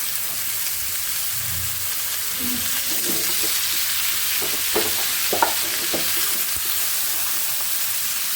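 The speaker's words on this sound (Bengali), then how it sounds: "এটা মূলার শাক ভাজি তেলে দিচ্ছি এই যে পেঁয়াজ রসুন লাল লাল হয়ে আসছে এখন দিয়ে দিলাম শাক" Radish greens dropped into hot oil with browned garlic and onion, a steady loud sizzle throughout with occasional stirring clinks and scrapes, close up and without talk.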